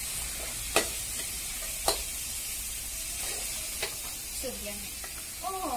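Holy basil for pad kra pao sizzles in a pan under a constant hiss, with a few sharp spatula taps and scrapes, and a faint voice murmurs near the end.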